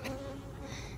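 Honey bees buzzing steadily just after being shaken, a dense, continuous insect hum close by with no talk, lasting about a second.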